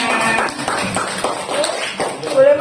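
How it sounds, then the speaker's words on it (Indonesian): Audience clapping in a classroom or workshop session, a short burst of uneven hand claps close by with voices talking over it. "Tepuk tangan semuanya."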